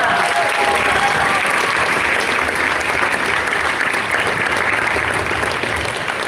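An outdoor theatre audience applauds after a dance performance, a steady, dense wash of clapping that stays loud and even throughout with only faint crowd murmur beneath.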